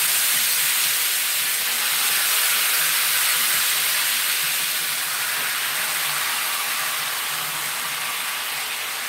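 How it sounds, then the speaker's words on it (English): Oxtail meat browning in a hot pot gives a steady, close hiss and sizzle that holds loud and even throughout with no pauses. "We're just going to put that meat up in here. And we're only browning it."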